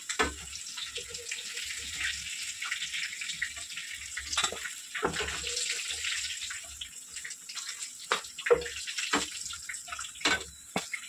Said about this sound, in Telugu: మంట మాత్రం మీడియంలో పెట్టుకొని ఫ్రై చేసుకోండి.